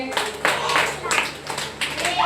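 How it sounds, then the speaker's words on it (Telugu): Children clapping together at a church gathering, several uneven bursts of hand claps close by, mixed with an adult voice talking over them. "క్లాప్స్ కొట్టండి రా అందరూ"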